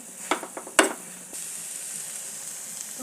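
Fig and potato bhaji sizzling in a pan, a soft steady frying hiss broken early by a few sharp clinks and stirring scrapes, then settling into quiet continuous sizzle.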